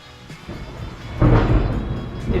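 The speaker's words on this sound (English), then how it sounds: "that storm is getting even gooder outside" Thunder from a storm outside a workshop rolls in as a deep rumble that swells suddenly to a loud crack-like burst and lingers, with rain faintly underneath.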